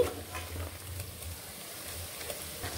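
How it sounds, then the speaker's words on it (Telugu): Chicken fries in oil in a pan for gongura chicken pachadi, a moderate steady sizzle with soft stirring scrapes and low rumble underneath, no talking. "ఈ చికెన్ వేగిపోయిందండి."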